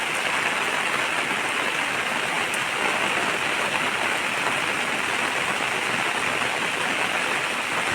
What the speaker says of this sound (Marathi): पाऊस पण जोरात चालू झालो